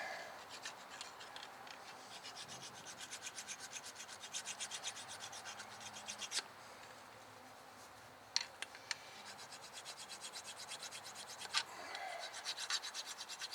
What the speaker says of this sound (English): You want to make sure that you get all of the scaling off of these.